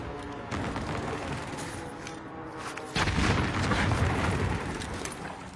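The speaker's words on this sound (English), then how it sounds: "Allied precision airstrike incoming" Airstrike explosions in a video game roll together into a dense, continuous barrage of deep booms and rumbling blasts. The barrage grows louder and heavier about halfway through, with no voices over it.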